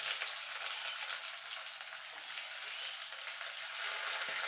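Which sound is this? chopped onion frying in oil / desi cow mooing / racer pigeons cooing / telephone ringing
chopped onion frying in oil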